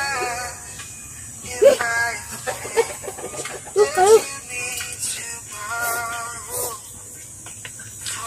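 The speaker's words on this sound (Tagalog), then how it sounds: "Manok, papakita ko sa inyo." Chickens on a farm in Dolores, Quezon cluck in short repeated calls amid outdoor background noise, with people talking nearby throughout.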